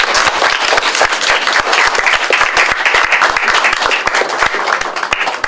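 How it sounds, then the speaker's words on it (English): Loud, dense applause from a school district audience at a laptop donation event, sustained sharp claps throughout with no talk over them. "Please give them another round of applause."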